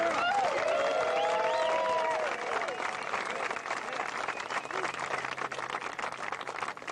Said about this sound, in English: please give a big round of applause for Jesper Lundmark.